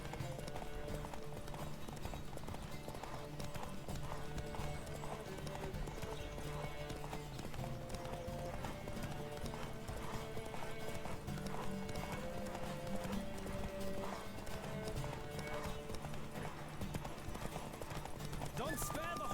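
Galloping horse hooves during a race in The Witcher 3, a steady clip-clop rhythm running continuously under game music and background sound.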